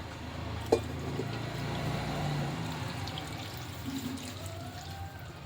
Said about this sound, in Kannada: ಇವಾಗ ನಾನು ಇದಕ್ಕೆ ಮುಳುಗೋ ಅಷ್ಟು ಸ್ವಲ್ಪ ನೀರು ಹಾಕ್ತೀನಿ ಜಾಸ್ತಿ ಬೇಡ